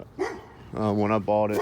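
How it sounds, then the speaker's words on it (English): Neighbor's dogs bark in the background near a parked M1026A2 slant-back Humvee, a few moderately loud barks partly masked by someone talking over them. "sorry about the dogs barking in the background"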